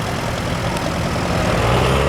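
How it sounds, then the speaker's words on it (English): A 12-20 four-wheel-drive compact tractor idles at a spring fair's arena parade, its steady low engine rumble running continuously and fairly loud with no break. "12-20 compact tractor, 4-wheel drive, runs lovely."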